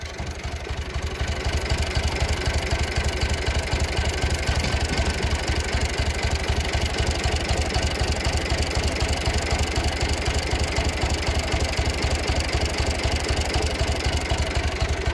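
A Massey Ferguson 135 tractor at a tractor obstacle-course competition runs close and loud with a steady, rapidly thumping diesel beat that holds throughout, with no talking.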